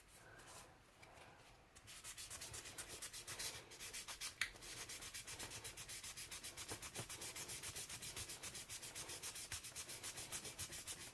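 Putty on the corner of a model being sanded straight by hand, a close, steady run of quick rasping strokes that starts softer and then holds an even, rhythmic scrub.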